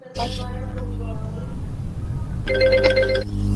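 A telephone rings during an online business webinar, a bright repeating electronic trill over a steady low background hum, loud and fairly near.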